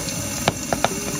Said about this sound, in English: So the popping that you hear is actually the hydrogen which is reacting to the fire.